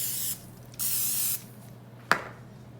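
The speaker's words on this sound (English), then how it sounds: "so I'm going to spray them with some Pam" Pam cooking spray hisses onto two mini Dash waffle makers in two short close bursts, the second longer, followed by a single quick thump.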